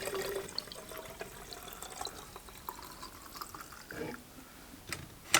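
Fuel mixed at 50:1 being poured straight from a can into the tank of a Craftsman 42cc S185 18-inch chainsaw with no funnel, a steady faint trickle and splash of liquid with small knocks of the can.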